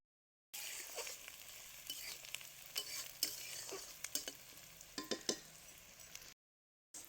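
Onions fry in a pan over a wood-fired stove and are stirred, a quiet sizzle broken by repeated scraping strokes of a spoon, with short silences at the start and end.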